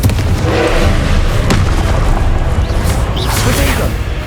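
Fire spell blasts from Hogwarts Legacy combat, a loud dense barrage of booming explosions with a sharp hit near the middle, constant and close under shouted spell incantations.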